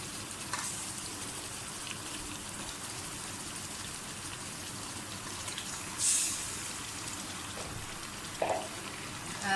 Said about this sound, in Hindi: अब आप इसमें जो चिकन है वो डाल दें, फ्राई करें इसको।